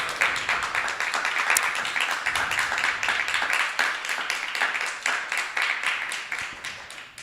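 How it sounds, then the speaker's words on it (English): A lecture audience applauds Nirakala Mataji with a sustained, dense round of clapping, moderately distant and steady, that thins slightly toward the end. "Let's give a round of applause for Nirakala Mataji here."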